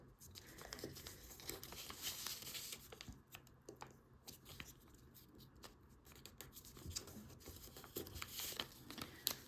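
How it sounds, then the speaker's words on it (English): Paper being folded and creased by hand for an origami Viper Interceptor fighter jet: soft, close crinkling and rustling with small sharp crackles as flaps are pressed down, quiet and steady throughout. "make a crease, basically just crease this down like that"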